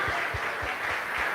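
A congregation at a church service claps steadily, a soft, even wash of many hands with faint low thumps, heard briefly.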